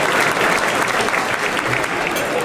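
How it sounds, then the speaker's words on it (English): Sustained audience applause fills a hotel ballroom at a civic State of the City event, steady dense clapping from a large crowd throughout. "let's give the Harrisburg Hilton and Cruise Control a round of applause"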